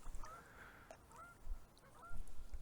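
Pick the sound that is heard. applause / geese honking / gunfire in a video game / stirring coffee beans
geese honking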